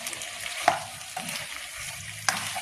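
Pork adobo sizzles loudly in a pan as its broth cooks down, with a couple of sharp scraping knocks as a utensil stirs the meat. No one speaks.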